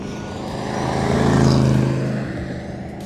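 A 1970 Plymouth 'Cuda AAR pulls away, its engine swelling to a loud, torquey roar at mid-pass before fading again as it drives off, with no voices.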